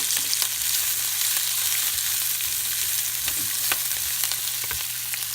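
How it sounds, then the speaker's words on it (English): Sliced peppers and broccoli sauté in a hot pan, a steady close sizzle carrying a few light scraping stirs, with no voices. "take your peppers and, and your broccoli, put it in there, give it a good saute"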